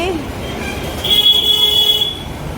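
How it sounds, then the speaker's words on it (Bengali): A steady, high-pitched horn blares for about a second amid busy outdoor noise, with a fainter horn just before it. "একে তো এই রোদ তার মধ্যে একবারে প্যাঁ প্যাঁ করে শুধু হর্ন"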